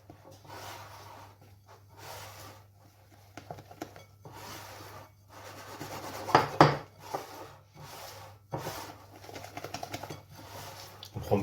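Flour gets folded by hand into whipped egg batter, heard as repeated soft scraping and rubbing strokes against a bowl in an uneven rhythm, with a few louder knocks midway, close and fairly quiet over a low steady hum.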